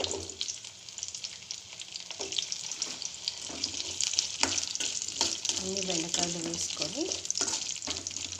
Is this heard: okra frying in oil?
yes